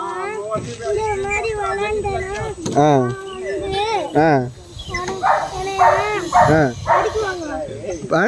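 Dogs bark and yelp repeatedly over excited talking and children's voices, with a cat-like meow mixed into the busy, close scene.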